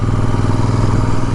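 Royal Enfield Super Meteor 650 motorcycle pulling in third gear, a loud, steady, throbbing twin-cylinder engine drone close by with no speech over it.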